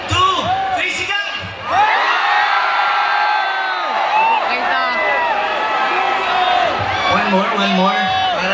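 A concert crowd at a live outdoor show in Manolo Fortich, Bukidnon, roars and shouts loudly on cue, with whoops and cheers rising after a performer's count over a hall-like echo.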